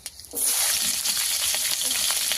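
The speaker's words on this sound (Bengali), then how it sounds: "কড়াতে তেল মানে পাঁচফোড়ন দিয়ে দেবো আর ভেজে রাখা সবজি দিয়ে দেবো" Fried vegetables drop into hot oil with panch phoron, bursting into a sudden loud, steady sizzle after a brief quiet moment, close and continuous.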